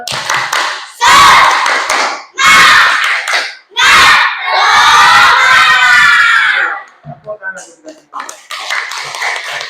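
Children in a classroom perform a rhythmic spirit clap chant, loud bursts of clapping and shouted cheering in short groups, then a longer cheer that trails off into scattered, quieter claps and voices.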